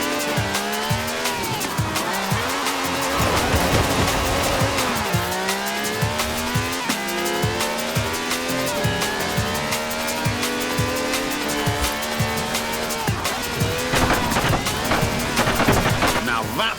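A 750-horsepower V12 sports car in Forza Horizon 4 revs hard and accelerates, its engine pitch sweeping up and down through gear changes, with tire squeal mixed in. The sound is loud and continuous.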